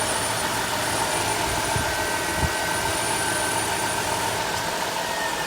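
A 3.8 liter dual overhead cam V6 in a Chrysler minivan runs at a steady idle, a loud, continuous hum with a faint high whine and no talking.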